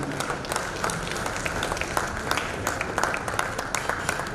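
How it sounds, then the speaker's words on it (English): Conference audience at an education event applauding, a dense, even patter of many hands clapping that holds steady throughout at moderate volume. "Big round of applause, please."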